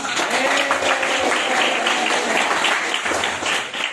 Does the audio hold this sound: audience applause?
yes